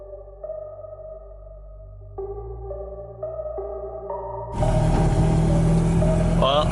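A flood-damaged Mazda RX-8 project car with a rotary engine drones loudly, its pitch stepping upward in stages before swelling into a harsh, roaring blast of engine noise.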